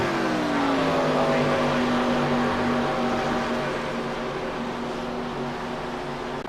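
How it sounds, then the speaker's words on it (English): Race car engines roar steadily in a racing video game: a loud, continuous motor drone that holds one pitch, with only a slight dip, and no voices. "Damn, these cars are loud."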